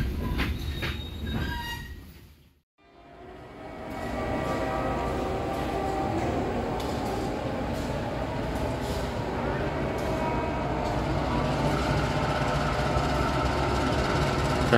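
The Kuto Jaya Selatan passenger train on the Jogja–Bandung route pulls into Kiaracondong station, with a steady loud rumble of rolling cars and squealing wheels that resumes after a brief quiet gap and holds near and constant.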